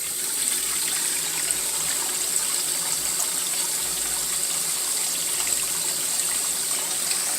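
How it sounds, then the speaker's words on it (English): Water runs steadily from a garden hose into the tub of a wringer washer, a continuous hissing, splashing flow close by with no other sounds. "So let's turn the water on more."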